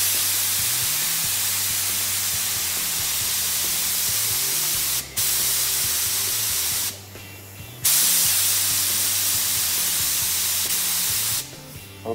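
A spray gun lays a light tack coat of AWLCRAFT 2000 Corinthia Blue boat paint: a loud, steady hiss held for long passes. It cuts off briefly twice and changes tone partway through, over a faint low hum and with no talking.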